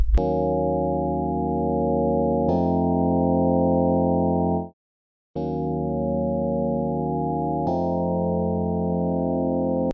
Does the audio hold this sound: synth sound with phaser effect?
yes